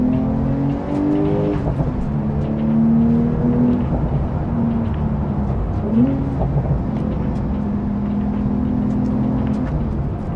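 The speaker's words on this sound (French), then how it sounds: "ce moteur, les amis." A Porsche 992 911 Sport Classic engine revs and drones loudly, pitch climbing and dropping through gear changes, with a sharp rev around the middle, no talking.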